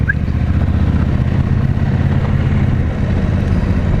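A KTM 790 Adventure R motorcycle engine runs steadily while the bike is ridden along a forest trail, a continuous low, even drone with no pauses and no talking.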